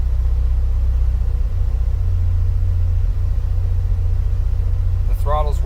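A 2004 Subaru STi with an EFR7670 turbo and EMtron engine management holds a deep, steady engine rumble during throttle tuning, loud and close throughout, with a brief voice cutting in at the very end.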